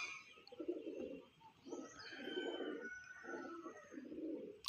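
An Andhra pigeon coos in a loft in Bagnan, giving four soft, low, rolling coos in a steady rhythm, faint and close, with a quiet background hum.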